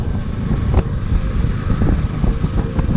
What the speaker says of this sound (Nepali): कस्तो ताता हावा हानेको आइस यता त।